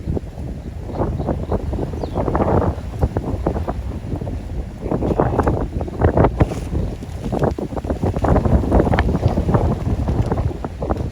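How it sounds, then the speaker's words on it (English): Strong, gusty wind buffets the microphone in uneven surges for the whole stretch, with no voices. "It is very windy here."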